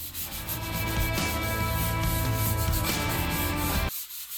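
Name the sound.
light sanding of primed countertop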